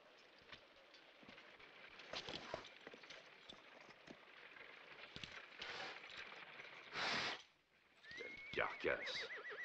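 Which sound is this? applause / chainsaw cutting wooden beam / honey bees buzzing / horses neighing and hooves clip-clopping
horses neighing and hooves clip-clopping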